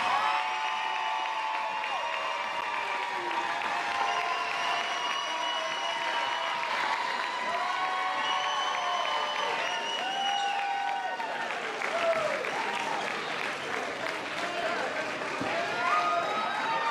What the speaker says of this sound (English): how about a big round of applause for your varsity state runner-up, the ACS Lions